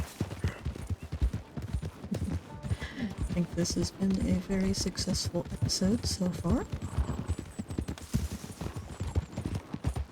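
Horse hooves clip-clop steadily in Red Dead Redemption 2 as a rider moves along a road, a brisk rhythmic walk-to-trot beat running throughout while someone talks over it.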